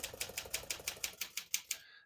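Rapid, even clacking of a 1952 Smith-Corona Silent manual portable typewriter, about a dozen strikes in a steady rhythm, close and crisp, ending abruptly.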